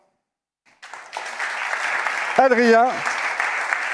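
A crowd at a French innovation event applauding people called back on stage, swelling from silence into sustained clapping while someone speaks briefly over it.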